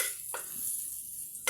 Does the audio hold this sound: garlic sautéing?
yes